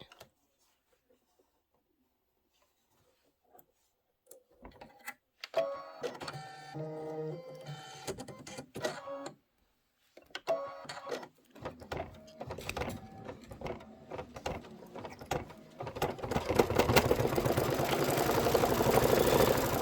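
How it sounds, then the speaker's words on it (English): A Kimberbell embroidery machine stitches around the center of a pumpkin pincushion, with quiet starts giving way to bursts of rapid mechanical whirring and clicking, pauses between runs, then a louder sustained stretch near the end. "This is going to be the stitching around the center part of the pumpkin."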